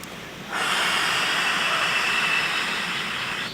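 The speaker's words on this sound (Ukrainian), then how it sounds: "стискаємо з двох сторін ребра і робимо видих" During a breathing exercise, a deep exhale rushes out as a loud, close, steady airy hiss, beginning abruptly after a brief quiet moment and lasting several seconds.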